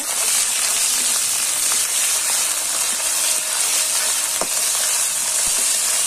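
Ginger garlic paste stirred into onions browning in hot oil, a dense, even sizzle that stays loud throughout with faint scrapes of stirring and no talking.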